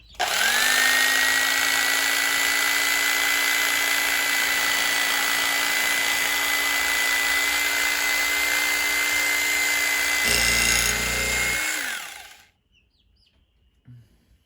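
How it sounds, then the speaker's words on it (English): An electric knife buzzes steadily as it slices whole wheat bread, a loud constant motor whine that holds for about twelve seconds, thickens briefly near the end and then stops. "As far as cutting bread, I highly recommend an electric knife."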